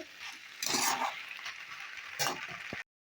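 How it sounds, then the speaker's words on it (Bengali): Vegetables sautéed in a pan for a Bengali vegetable curry, with a close sizzle and two louder bursts of stirring and scraping, then sudden silence at the end. "খুব ভালোভাবে কষিয়ে নিতে হবে"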